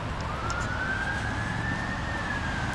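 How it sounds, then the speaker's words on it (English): A police siren wails steadily in a London street, its sweeping tone rising and falling over the continuous hum of traffic, fairly loud and unbroken throughout. "With the police siren in the background."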